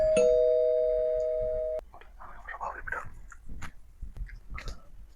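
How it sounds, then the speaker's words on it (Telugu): A doorbell rings once near the start, a loud sustained electronic chime that fades before cutting off, followed by quiet rustling and soft handling sounds with faint talk. "సో ఇప్పుడు మన కాలింగ్ బెల్ మోయింది కదా"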